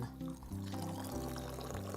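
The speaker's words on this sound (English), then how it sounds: "pour the coffee in" Coffee pours into a large glass in one short, continuous liquid stream over quiet background music.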